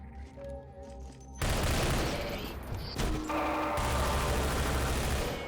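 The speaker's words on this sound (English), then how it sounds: "Now I have a machine gun." Machine gun fire in the video game Entropy: Zero 2, with a dense burst of rapid shots that starts abruptly and continues loud and steady, briefly dipping before resuming.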